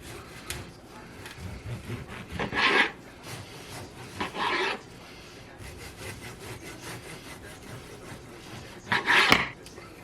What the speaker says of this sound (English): I'm going to cut this in between 1/4 and 1/2 inch slices, very carefully.